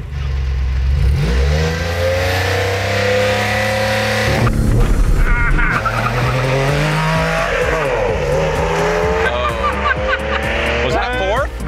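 A Porsche sports car rated at 220 horsepower launches and accelerates hard, its engine revving loudly and rising through the gears with a brief shift pause, while a person talks over the run.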